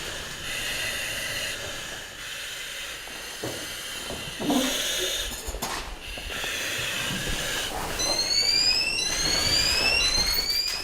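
A hazmat team's chemical detector sounds an alarm in a chemical lab facility, with faint rising electronic tones toward the end over a hissy, noisy background.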